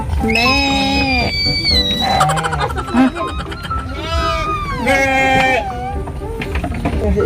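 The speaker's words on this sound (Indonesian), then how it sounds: "Ada anak mbek." A young goat bleats repeatedly and loudly up close, its wavering cries filling the moment with little pause between them.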